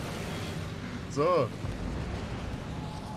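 A single naval gun salvo fired from a German warship in World of Warships, one loud booming blast mid-clip over steady engine and sea rumble, with someone speaking briefly.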